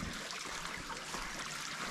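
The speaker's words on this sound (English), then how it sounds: "Little stream." A small stream trickles and burbles softly outdoors in a brief, faint stretch of steady flowing water.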